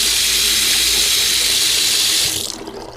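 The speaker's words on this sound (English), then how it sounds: "Run the water." A bathroom sink faucet runs water at full flow with a loud, steady hiss, then cuts off, leaving the softer gurgle of water draining.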